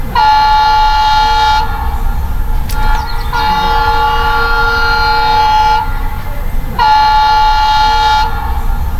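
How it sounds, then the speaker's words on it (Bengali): Loud train horn blaring in three long sustained blasts with short gaps between them, over a continuous close rumble of rolling rail cars. "ট্রেন আসে গেছে"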